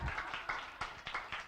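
Applause from a church congregation at a revival meeting, a burst of clapping with distinct repeated claps spread across the short stretch, fairly soft and roomy.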